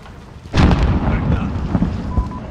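A grenade blast in Call of Duty: Modern Warfare hits suddenly and loud, then rolls into a long rumbling decay with scattered crackles in a battle setting.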